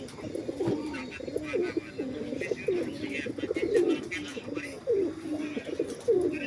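Madrasi pigeons coo continuously in low, throaty rolling calls, close by, with some faint chirps and a voice in the background.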